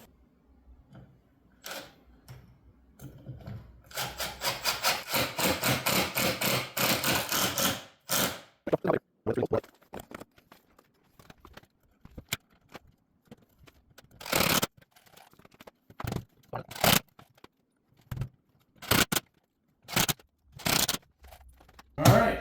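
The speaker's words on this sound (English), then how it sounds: "I'll go ahead and put some screws in these holes and pull her down tight" A power drill driving screws into a wooden DIY corner plant shelf: a long whirring burst, then a series of short sharp drill pulses and clicks separated by quiet gaps, close and dry.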